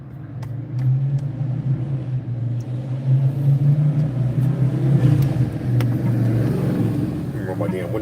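A loud car on a Hollywood, California street, heard from inside a vehicle as a deep, steady engine rumble that swells and holds for several seconds, fairly close.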